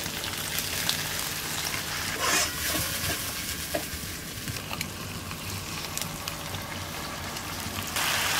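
Water poured onto dried chillies and ginger paste frying in a rural village kitchen raises a dense, crackling hiss, steady throughout with a few spoon scrapes and a surge near the end.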